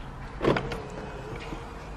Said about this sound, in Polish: Zamykam samochód.